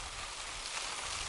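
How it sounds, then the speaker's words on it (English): Windblown rain pelting a bivy shelter while camping, a dense, even hiss of drops close by, steady and unbroken. "rain."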